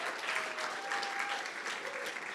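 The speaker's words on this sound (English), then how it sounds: "Let's give her a round of applause." Conference audience applauding an honoree walking to the stage at an astronaut scholar gala; dense, even clapping from a sizable indoor crowd, steady for the whole stretch.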